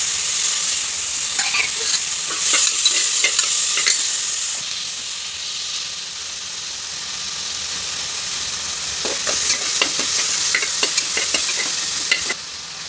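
Onions and tomatoes sautéing in a pan for mutton kuzhambu give a loud, steady sizzle throughout, with bursts of spoon-scraping stirs near the start and again toward the end.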